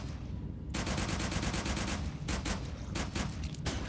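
An SMG firing in the video game Retchid, a rapid stream of sharp automatic shots with a quick even rhythm, close and punchy, broken by short gaps between bursts.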